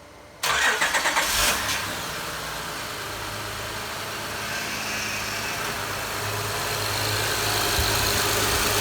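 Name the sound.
car engine starting and idling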